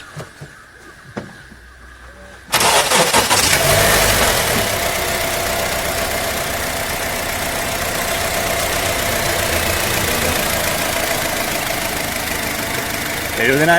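A Honda BR-V with high mileage is started after a quiet moment, catching abruptly and settling into a loud, steady, even idle with a smooth mechanical hum, nearby.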